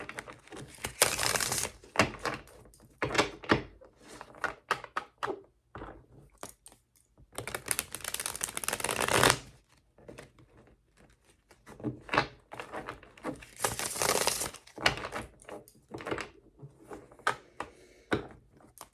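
A stiff tarot card deck is shuffled in uneven bursts of crisp riffling and clicking, with brief pauses between handfuls of cards, close and fairly quiet.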